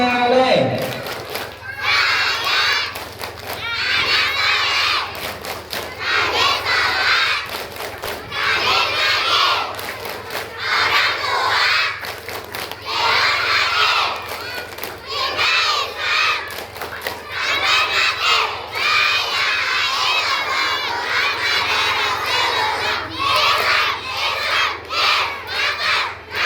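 A crowd of children at a Maulid Nabi gathering perform the tepuk anak soleh clapping chant, loud shouted voices in unison over quick rhythmic claps that run continuously for nearly half a minute.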